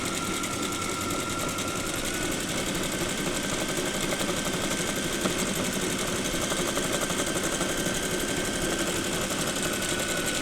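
A sewing machine stitches a fabric strip onto a quilt square, a steady, fast mechanical whir that runs close and unbroken with no talk.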